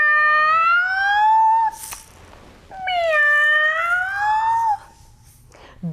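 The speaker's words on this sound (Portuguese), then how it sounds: "gatos" Two long, clear cat meows as a storybook sound effect, each a drawn-out rising and falling cry separated by a short pause, loud and close.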